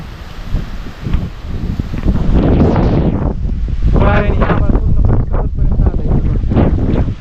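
Strong storm wind buffets the microphone in heavy, roaring gusts that swell and fade, loud and close, with a voice faintly audible beneath the rumble.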